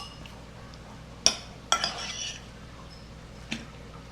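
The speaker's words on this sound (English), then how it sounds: "Now we're just going to mix all of this together." Seasoning and garlic being mixed in a bowl in a home kitchen, heard as a few sharp clinks of a utensil against the bowl and soft scraping between quieter gaps, fairly close and without talking.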